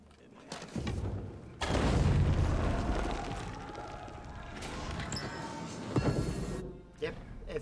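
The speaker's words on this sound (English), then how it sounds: "everyone heard an explosion and is running for the hills, as they should be" Explosion in the video game Assassin's Creed Valhalla, a loud broadband boom that erupts and rumbles on for several seconds, with a second burst near the end and game sound mixed in.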